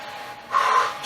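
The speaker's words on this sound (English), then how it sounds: "I'm still breathing pretty hard." A short, close, heavy breath after a full-body workout, a single breathy exhale swelling in the middle of the moment.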